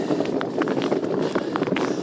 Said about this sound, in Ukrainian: Вітер знов сильний.